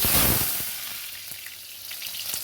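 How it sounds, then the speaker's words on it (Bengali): Pointed gourd (potol) dropped into hot oil gives a burst of loud sizzling that settles into a steady, softer crackle of frying, alone and close. "তেল গরম হয়ে গেছে, আমি এবার পটলগুলো ভেজে নেবো।"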